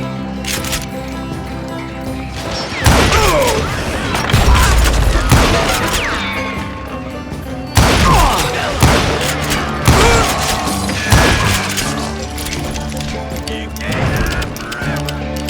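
Gunfire in the Western shooter Call of Juarez Gunslinger, with loud sharp shots and bursts clustered around several moments amid a busy game soundscape, some overlapping in quick volleys.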